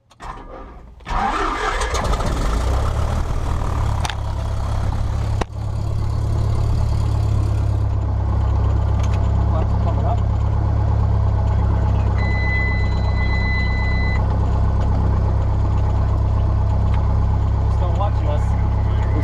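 A small propeller airplane engine cranks and catches after about a second, then settles into a loud, steady close idle, with brief voices over the running engine.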